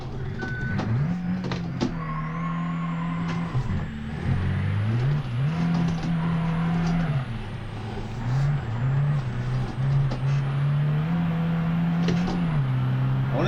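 A delivery van's engine drones and shifts pitch as it accelerates and eases off through the drive, with a faint high whine riding above a steady, fairly loud rumble and no speech.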